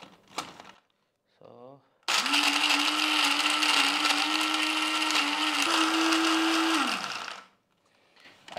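Electric blender grinding dry fruits with a splash of milk, running loud and steady for about five seconds with its motor pitch rising briefly near the end, preceded by a few faint kitchen clatters.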